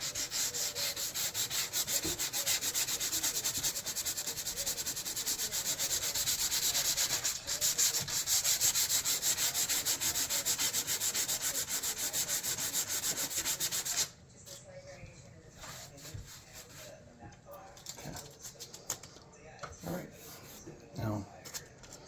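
A steam-damaged wooden door being sanded by hand with 400 grit sandpaper, giving a steady, close, continuous rasping rub that stops abruptly partway, leaving quieter scattered handling noises.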